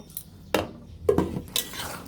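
Spring onion stalks and potatoes fry in a pan, heard as a few separate clinks and scrapes of a utensil against the pan, spaced out over a soft sizzling bed.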